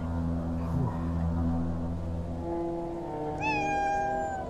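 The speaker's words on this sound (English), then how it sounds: "Is that a cat right here?" A cat in Minecraft gives a single drawn-out meow, clear and close, over a low steady hum of game ambience.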